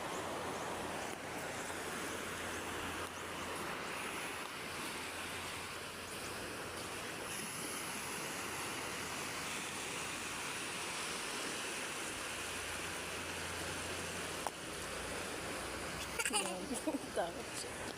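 Sea surf at a beach in Macalang, Dasol, Pangasinan, a continuous broad wash of waves with wind noise, voices faintly mixed in and a brief clatter near the end.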